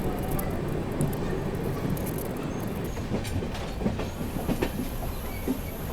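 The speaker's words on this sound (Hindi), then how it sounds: "ट्रेन अपनी पहुंच रही है गाजीपुर सिटी" Suhaildev Superfast Express, a passenger train, rolling into Ghazipur City station with a steady loud rumble and rhythmic clickety-clack of wheels over rail joints, plus a faint squeal of wheels, throughout with no talking.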